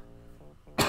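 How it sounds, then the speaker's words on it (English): A single short cough bursts out sharply at the end after a moment of faint throat noise, close and fairly loud. "Sorry, a little cough there."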